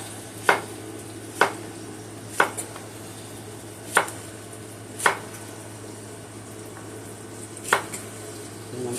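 Eye round steak and rinsed prawns cut about an inch thick with a knife on a board, giving six or seven sharp, separate chops spaced a second or so apart over a low steady hum.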